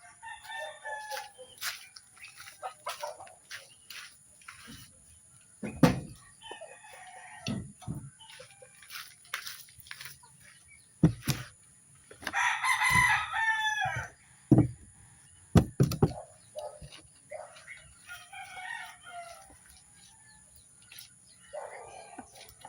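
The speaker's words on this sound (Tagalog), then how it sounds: "ating mga alagang manok na nasa buslog" Pet chickens kept in a coop, scattered clucks and sharp knocks spread across the stretch, with one loud drawn-out crow near the middle, fairly close, and a steady high electronic whine running throughout.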